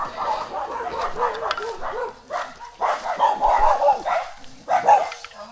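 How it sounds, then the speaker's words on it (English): Several wild dogs bark repeatedly at a moderate distance in El Salvador, overlapping yips and barks coming in irregular bursts. "Got some wild dogs over here."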